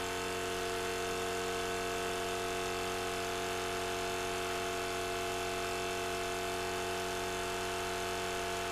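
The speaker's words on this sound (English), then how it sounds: "The pump is operating at about 12 to 13 pounds of pressure" Buon Vino wine filter pump running at about 12 to 13 pounds of pressure with new filters while transferring wine, a steady faint motor hum and vibration that continues unchanged throughout.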